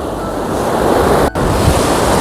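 Sea waves surging along the Isle of Man promenade, a loud, steady wash of surf mixed with wind noise buffeting the microphone, with one brief dropout partway through.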